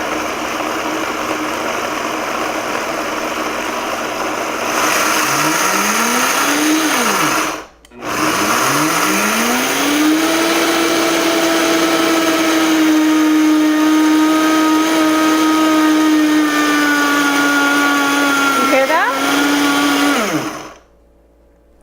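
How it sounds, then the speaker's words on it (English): A Vitamix blender grinds sunflower seeds and fine salt into flour, its motor roaring loud and steady with pitch sweeps as it speeds up, a brief cutout near eight seconds, then a long sustained high whine before stopping. "What you're going to do is you're going to listen to the Vitamix."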